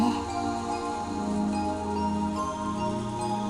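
Rain falls steadily as a soft, even hiss in a scene from the visual novel Umineko no Naku Koro ni, with quiet sustained music beneath it and no speech.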